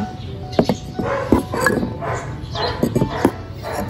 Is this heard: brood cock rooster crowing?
no